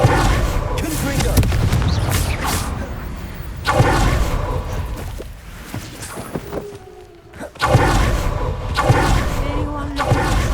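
Confringo blasting spells explode in Hogwarts Legacy as a string of loud booms and crackling bursts, with a short lull before another heavy blast, while game voices speak over the combat.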